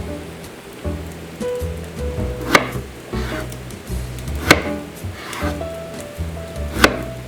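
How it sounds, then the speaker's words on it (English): A knife chops through strawberries on a cutting board, landing a few sharp, separate strikes under a steady tonal hum. "I'll show you how to chop some strawberries out."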